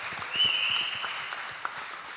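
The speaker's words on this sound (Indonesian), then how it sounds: "Tepuk tangan dulu dong buat teman-teman." A brief round of audience clapping for student band members at a campus performance in Makassar, with scattered individual claps under a steady high ringing tone.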